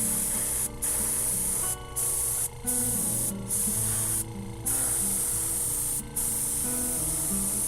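Aerosol paint sprays in steady, close hissing bursts across a Nerf blaster, broken by several short pauses between passes, with faint music underneath.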